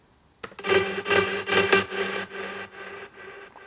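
A Hard NL synth patch for big room EDM, an open saw-like lead that plays alone in a few loud rhythmic stabs, then fades into a softer tail.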